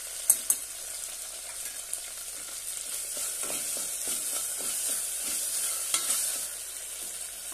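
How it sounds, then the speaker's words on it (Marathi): Curry leaves and ginger-garlic paste sizzle steadily in a hot pan for rasam rice, with soft scraping stirs and a few sharp spatters, close and moderately loud. "थोडासा कढीपत्ता छानपैकी परतून घेऊया।"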